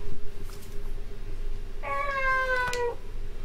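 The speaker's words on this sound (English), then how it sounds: "If we follow the cat's cries, we should find a way." A cat meows once in the video game Fragile, a clear drawn-out cry of about a second over a low ambient hum.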